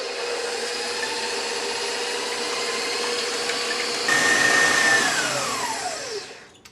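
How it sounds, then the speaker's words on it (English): Stand mixer whisking egg whites with salt on high speed using a whisk attachment, a steady loud motor whir throughout that rises in pitch partway and then winds down near the end. "we're just going to turn this on high and we're going to whisk it until we get stiff peaks."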